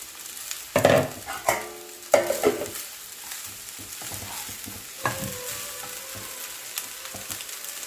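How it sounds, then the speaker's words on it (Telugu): Boiled rice tossed and stirred in a hot pan for egg fried rice, with steady frying sizzle and several louder scraping stirs near the start, then quieter sizzling, close and alone without talk. "దీంట్లో ఇప్పుడు నేను బాయిల్ చేసుకున్న రైస్ వేసేసుకుంటున్నాను."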